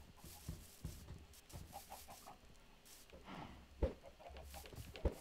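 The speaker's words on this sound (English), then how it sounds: "I'm in here gonna feed the chickens." Chickens in the video game Minecraft cluck in short, faint, scattered bursts, quiet and close, with a couple of sharp clicks near the end.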